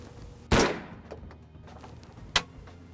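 A single sharp rifle shot cracks out at a doe during a deer meat hunt, loud and close, followed by quiet field ambience and a second, fainter sharp report about two seconds later.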